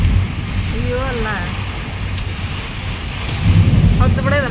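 Heavy rain pouring steadily, with low rumbling that fits thunder, under excited voices talking and calling out nearby.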